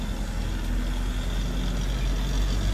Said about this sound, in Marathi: हा जोगा चालू आहे